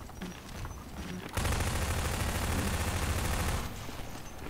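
Automatic weapon fire from the Half-Life 2: Deathmatch video game bursts in as a dense, continuous rattling fusillade lasting about two seconds, loud and close, between quieter stretches of game ambience.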